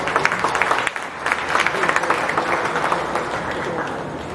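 Audience applause at a county 4-H fair in Putnam County, a sustained wash of many hands clapping for about four seconds, steady and fairly loud throughout.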